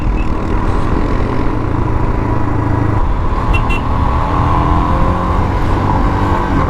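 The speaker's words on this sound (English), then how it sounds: "Already I've got a car behind me trying to overtake me." Riding a Royal Enfield motorcycle on a Himalayan road toward Jeori brings steady loud engine drone and wind rumble, with a car's engine nearby as it tries to overtake.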